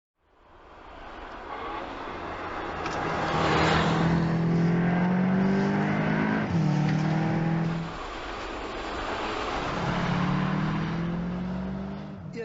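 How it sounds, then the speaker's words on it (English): Volkswagen Arteon R accelerating out of a corner, the engine note swelling and climbing through the gears, rising, dipping at a shift and pulling again, moderately close and loud before easing off. "The corner exit acceleration of that car is just unbelievable."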